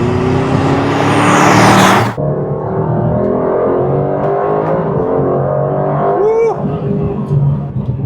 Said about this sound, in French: Je vais quand même vous faire entendre un petit peu le moteur. Je vais le mettre en échappement sport.